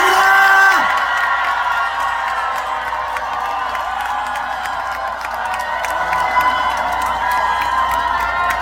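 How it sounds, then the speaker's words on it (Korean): A fan club crowd at a university festival claps and cheers, with scattered whoops over a busy, sustained roar and faint music beneath. "큰 박수 한번 부탁드리겠습니다"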